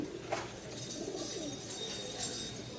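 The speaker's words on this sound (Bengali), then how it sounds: "নরের খুবই ডাক, নতুন জায়গায় নিয়ে আসছি যার কারণে একটু ডাকতেছে কম।" A male Rajshahi Giribaz pigeon coos, giving a few soft, low, rolling calls close by over faint background noise, with no talk.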